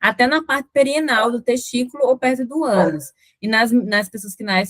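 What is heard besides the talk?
None of the usual background noises is heard.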